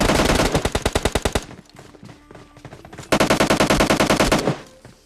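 Heavy automatic gunfire in a battle-royale-style shooter game: two loud, rapid bursts of evenly spaced shots, separated by a stretch of quieter, scattered shots and game sounds, with no talking.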